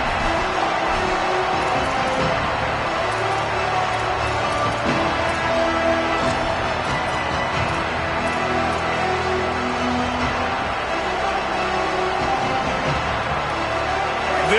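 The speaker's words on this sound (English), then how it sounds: "This crowd ready to make its presence known" A football stadium crowd at an Oregon game roars in a dense, steady wash of cheering that continues throughout, loud and far-reaching, with no single voice standing out.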